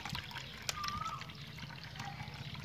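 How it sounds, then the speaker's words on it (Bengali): Banana peel water is poured into a liquid plant fertilizer mix, a soft brief trickle and splash close by, with faint background noise. "এই কলার খোসার জলটা দিয়ে দিই আগে"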